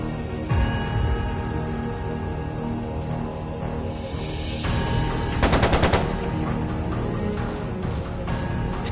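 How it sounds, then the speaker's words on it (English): Machine gun fire in the video game Trails of Cold Steel 2, a dense rapid burst of shots standing out around the middle over a busy, continuous game soundscape with music and crackling. "It sounded like a machine gun."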